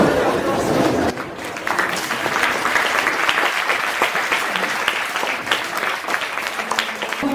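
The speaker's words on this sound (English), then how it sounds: "All of you stand up and give a big round of applause." An audience at a paediatrics lecture series gives a standing round of applause, loud sustained clapping with crowd murmur and voices mixed in, near and continuous throughout.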